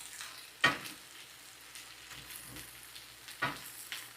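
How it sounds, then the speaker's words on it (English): Faint, steady sizzle of sliced okra frying in a pan, with a couple of sharper clatters or stirring knocks standing out against the background hiss. "So we're just frying this up."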